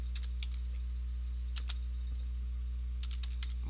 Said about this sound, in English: So just type